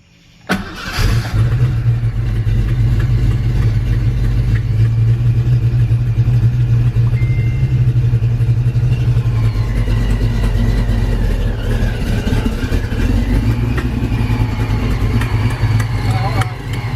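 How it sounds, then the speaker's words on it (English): A supercharged 302 V8 car engine cranks and catches on its first start after a swap, then settles into a loud, steady rumbling idle that carries on throughout, close by. "you just heard the car start up. It is running."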